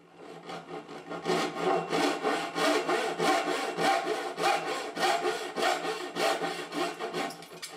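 A hand saw cuts through wood for dovetail joint pins in steady, rhythmic back-and-forth strokes, close and loud, with no talking.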